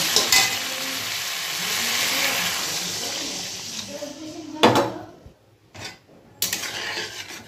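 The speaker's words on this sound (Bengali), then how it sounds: "এবার আমি জল দিয়ে দেবো ঝোলের জন্য" Water poured into fried, oil-releasing masala for a rithe fish curry gravy: a loud rushing sizzle and bubbling, then bursts of pouring and metal pan clatter, near and prominent.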